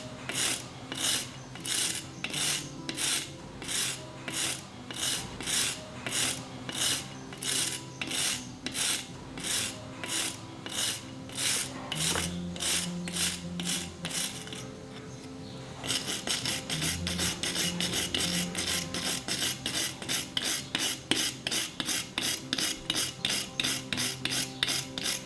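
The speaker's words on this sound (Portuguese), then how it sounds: "Limpe com uma escova de aço, movimentando-a no sentido das estrias." A steel wire brush scrubs along the knurled grooves of a part on a lathe, giving steady rhythmic rasping strokes, close and alone, that pause briefly midway and then resume at a faster pace.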